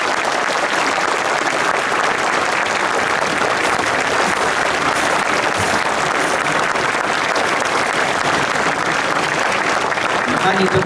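A crowd at a Konfederacja rally in Poznań's Stary Rynek applauds Anna Bryłka with loud, dense, continuous clapping that stays steady throughout, with the mass of hands close and filling the space.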